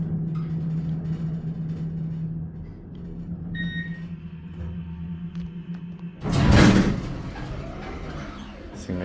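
Original Otis Lexan hydraulic elevator door operating at Hauser Hall, Hofstra University, with a low motor hum and faint chime, then a loud, sharp clatter and rumble as the door slides shut; a voice speaks nearby.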